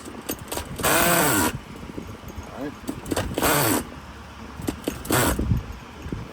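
A nitro RC car engine on castor-oil fuel is cranked in three attempts, each a loud rough buzzing burst of about half a second to a second, separated by quieter handling noises and brief talk.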